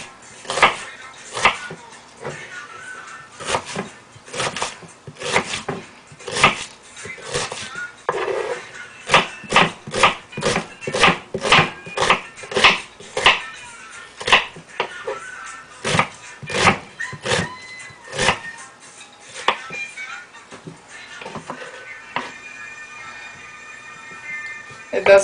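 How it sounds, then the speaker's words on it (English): Onions chopped with a knife on a board for egusi stew, a long run of sharp, rhythmic knocks, steady and close, with pauses between bursts and occasional speech. "Chop my onions first."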